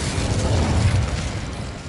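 A fire spell cast in Hogwarts Legacy gives a brief, low whooshing burst of flame that swells and then fades.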